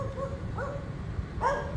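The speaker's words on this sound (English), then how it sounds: "I hear a dog barking away." A loose dog on a central Bangkok street barks and yips a few times at moderate distance, short tonal calls spaced across the moment over steady low street rumble.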